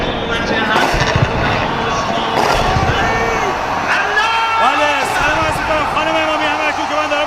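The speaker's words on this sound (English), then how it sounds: "Look at them, they're literally cheering." A crowd cheers and shouts continuously, a dense wash of many voices with whoops rising above it, steady and loud throughout.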